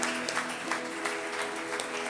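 A church congregation at a Spanish-language men's retreat service at Casa de Oración Santa Fe breaks into sustained, dense applause, steady and fairly loud, with a faint tonal hum of music running underneath.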